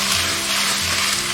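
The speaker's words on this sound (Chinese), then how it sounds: "我们就把白菜帮放下去，倒炒个30秒" Cabbage stalks hiss and sizzle steadily as they are stir-fried over high heat in a wok, a loud, dense frying sound that holds continuously with no break.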